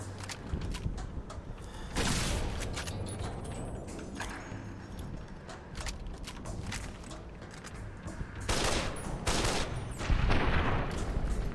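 Automatic rifle fire in Fallout: New Vegas (Dead Money add-on) crackles in sharp bursts, the heaviest around the second mark and again toward the end, with mechanical clicks and scuffs between volleys.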